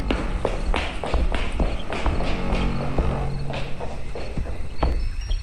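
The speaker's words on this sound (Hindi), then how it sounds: "कोई कॉरिडोर में यहां से वहां भाग रहा था।" Rapid footsteps of someone running back and forth along a corridor at night, a steady run of close, repeated taps and thuds heard alone without speech.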